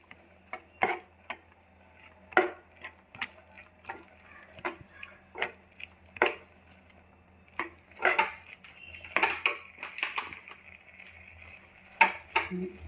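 Cooked pulses and spice powders being stirred in a pan, a spoon scraping and tapping the metal in irregular, fairly close clicks and knocks with short pauses between them.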